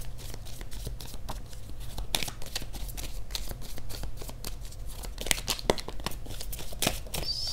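Oracle cards being shuffled close by, a continuous papery riffling and flicking with crisp slaps at irregular moments, fairly quiet and with no voice over it.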